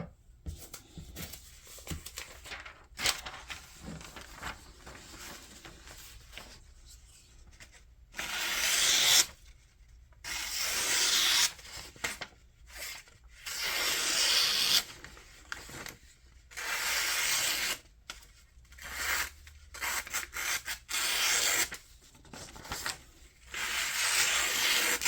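Bestech Slasher V2 pocket knife with a flat-ground sheepsfoot blade slicing material in repeated rough scraping strokes, close and moderately loud, separated by brief quiet pauses.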